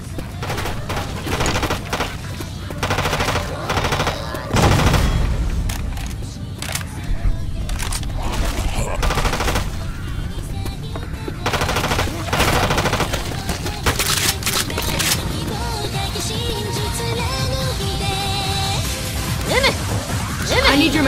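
Rapid machine gun fire in the zombie shooter Left 4 Dead 2, loud bursts and sustained rattling volleys with booms and crashes, players calling out over the gunfire.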